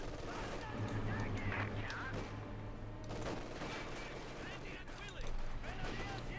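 Grenadiers open fire in the strategy game Company of Heroes 2, giving bursts of rifle and machine-gun fire with distant explosions under a steady low battle hum.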